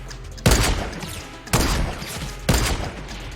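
Three loud, evenly spaced sniper rifle shots ring out in Fortnite's playground sniper course, each a sharp crack with a booming tail that fades before the next.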